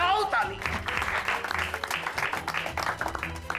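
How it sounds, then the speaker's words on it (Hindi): Group clapping in a comedy scene comes in rough bursts, fairly loud, mixed with voices talking over it. "बजाओ ताली।"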